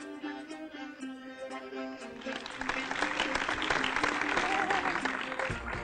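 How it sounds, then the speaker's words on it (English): An applause sound effect layered over a musical soundtrack in Storyboard Pro: a tonal melodic bed plays alone first, then a dense wash of clapping swells in on top and continues to the end. "I've got some applause happening on top of it"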